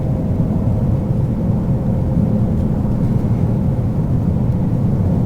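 Lime-green 2020 Shelby GT500 being driven, heard from inside as a continuous low engine and road rumble at even loudness, with no talking.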